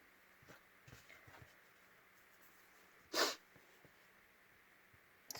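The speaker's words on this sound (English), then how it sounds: "Sorry, I keep sniffing at you." Quiet sniffing close to the microphone: a few soft nasal breaths early on, one sharp, louder sniff or snort in the middle, and faint rustling in an otherwise still room.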